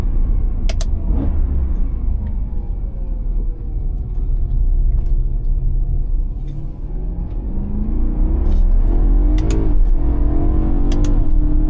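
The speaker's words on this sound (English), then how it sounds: "Downshifts coming." BMW E92 M3 engine downshifting through magnetic paddle shifters, a loud close interior rumble with the revs swelling and dipping and sharp blips as each gear drops.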